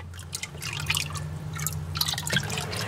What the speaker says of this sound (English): Oh, a little gurgle.